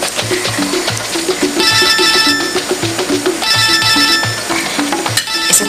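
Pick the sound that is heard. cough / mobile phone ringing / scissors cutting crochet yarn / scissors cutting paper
mobile phone ringing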